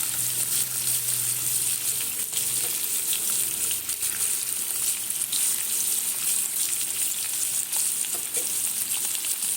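Potatoes fry and sizzle in hot oil in a home kitchen, a continuous bright hiss with soft crackles and occasional stirring clatter, close and steady with no talking.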